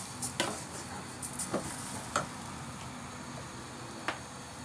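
Rice being stirred in a hot pan with garlic over high heat, a soft background sizzle punctuated by a few scattered scraping taps of the utensil.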